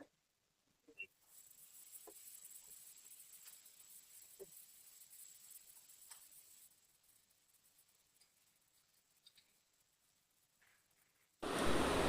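Onions fry in a pan with crushed ginger, garlic and green chilli for a squid roast, giving a faint, steady sizzle that holds for about ten seconds before a sudden loud burst of noise at the end.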